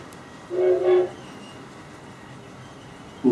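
Model railway layout with an A1 Tornado Pacific locomotive departing: a single short horn toot sounds near and clear, followed by quiet background hum, with another toot just starting at the end.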